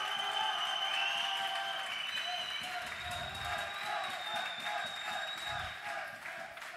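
Applause and crowd noise fill the arena at a Counter-Strike: Source grand final, steady and continuous throughout, with some distant voices mixed in.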